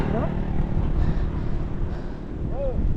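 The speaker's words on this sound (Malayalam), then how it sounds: "സൗണ്ട് കേൾക്കുന്നുണ്ടാവൂ കാറ്റിൻ്റെ. നല്ല കാറ്റ്." Steady, heavy wind buffeting the microphone throughout, strong enough to push a bicycle sideways, a continuous low roar with faint voices briefly audible in the background.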